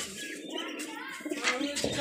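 Pet pigeons kept by a hobbyist coo in soft, throaty bursts close by, with light chirps and a faint flutter mixed into the calls.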